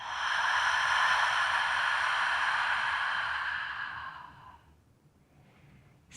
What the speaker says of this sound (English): Deep breath in. Exhaling completely.